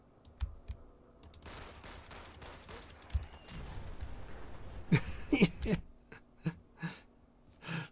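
Gunfire in the Fallout 4 video game: a few sharp shots cluster near the middle, then scattered bangs follow, over a busy bed of in-game noise and clicking, with some talk in the mix.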